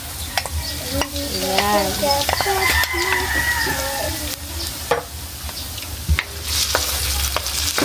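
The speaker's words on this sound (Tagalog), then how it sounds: "Tsaka ilagay na po natin yung tofu po or tokwa." Tofu fries in a pan for pancit palabok with a continuous sizzle and stirring scrapes and clinks, while a rooster crows nearby and a person speaks briefly.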